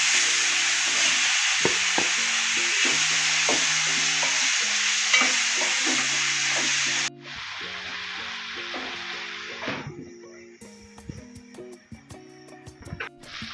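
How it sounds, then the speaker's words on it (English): Diced tomatoes hiss and sizzle in a hot pan with chicken gizzards, a constant bright frying crackle under repeated knocking of a utensil stirring; the sizzle drops sharply halfway, then stirring clatter continues more sparsely. "I add the diced tomato in."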